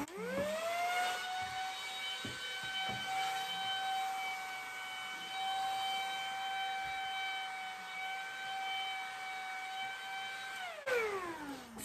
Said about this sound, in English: it's really strong for a diffuser because I can feel that like blowing in my face